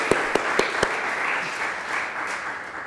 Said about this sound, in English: give a clap for him